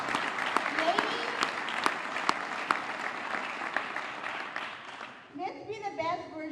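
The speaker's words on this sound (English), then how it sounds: "So a big round of applause for them." Applause from an audience at a fire department girls camp, a steady crowd clapping for several seconds that fades near the end as a voice begins speaking.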